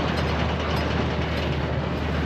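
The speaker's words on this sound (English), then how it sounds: "That baler runs like a, just runs like a sewing machine." A hay baler running smoothly in the field, a steady mechanical clatter of rapid, even ratcheting and gear noise over a constant low hum, with no talk.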